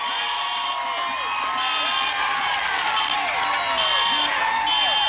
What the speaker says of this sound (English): There is a huge crowd.